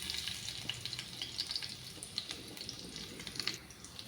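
Small garlic cloves and chana dal frying in oil, a soft, faint sizzle with light crackles and spatters.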